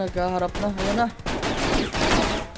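Rapid bursts of gunfire crackle loudly in a video game, overlapping with excited talk from a commentator throughout.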